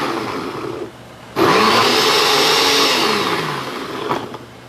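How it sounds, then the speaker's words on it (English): A countertop blender whirs loudly as it purées arugula gazpacho, starting abruptly after a quieter stretch, holding a steady roar for a few seconds with a shifting pitch as the contents churn, then tapering off. "then we're going to blend it slowly"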